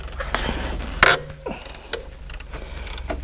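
A wrench turning a 15 mm bolt on a Porsche 911 engine, close ratcheting clicks and a sharp metallic crack as the bolt breaks loose, followed by lighter ratchet strokes and small tool clinks.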